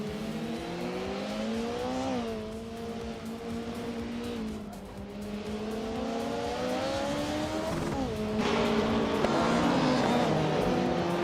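Engine drones from race cars in a racing video game, including a 1994 Volvo 850 Estate, with rising and falling revs through gear changes, layered cars held steady and loud throughout, some tire squeal.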